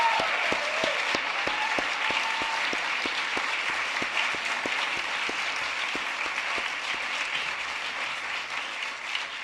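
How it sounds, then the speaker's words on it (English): Sustained applause from a ceremony audience at a human rights awards night, a steady dense clatter of many hands clapping with a few distinct sharp claps near the front, continuing evenly throughout. "So another round of applause for William."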